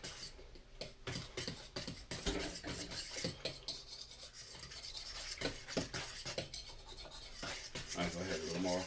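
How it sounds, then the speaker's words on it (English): Bread dough being mixed by hand in a bowl, a steady run of scraping, rubbing strokes in an uneven rhythm, close and fairly quiet. "And I'll mix first."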